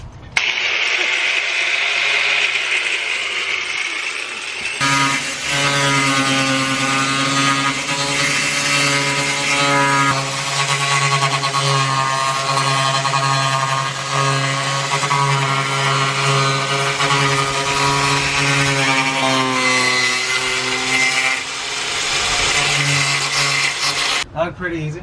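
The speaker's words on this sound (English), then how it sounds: "What we're about to do now is cut into the ribs of the van, and" An angle grinder cuts through the metal ribs of a camper van, a loud sustained whine with steady harmonics after a brief quieter start, running almost continuously to the end.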